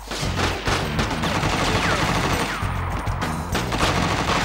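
Gunfire in the video game The Getaway: Black Monday, dense and continuous, with rapid repeated shots and bursts layered over a steady loud game backdrop for the whole stretch.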